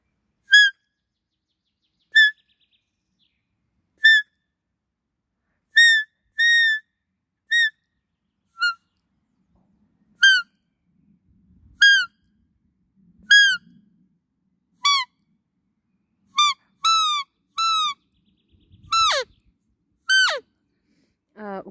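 Roe deer buck calls imitated on a Weisskirchen universal deer call, pressed with lips or teeth: a series of short, clear whistled peeps spaced a second or two apart, growing louder and more frequent, played alone with no talk.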